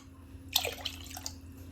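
A short splash of water pouring into a pot of Kerala-style rasam, lasting under a second, with a few drips trailing off; no talking.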